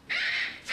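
A cockatoo lets out one loud, harsh squawk lasting most of a second, then begins a second cry right at the end, close and clear with no talking over it.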